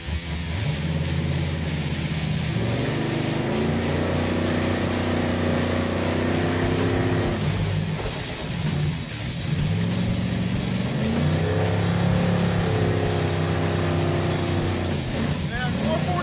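A Crusher Impala with a big-block engine drives along, its deep, steady engine roar rising and falling through gear changes, loud and close throughout, with speech faintly underneath.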